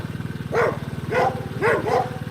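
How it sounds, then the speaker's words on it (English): A dog behind a fence gives four deep, evenly spaced barks over a steady low mechanical rumble, fairly close and moderately loud. "that dog's got a big bark"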